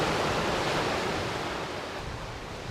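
Continuous roar of Lake Superior waves crashing on a beach, loud and steady with a broad rushing wash and no voices.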